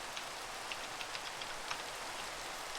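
Steady rain in the video game Minecraft falls with scattered distinct droplet taps, soft and continuous, with no voices.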